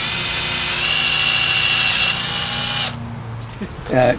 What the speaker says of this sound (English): inserting the 5/8 inch drill right in the mouth of the barrel and drilling down